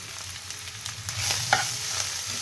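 Ground spices, pepper, sesame and nigella are stirred into a fish mixture with a few close, soft scraping and knocking strokes of a spoon over a faint steady hiss, with no talk.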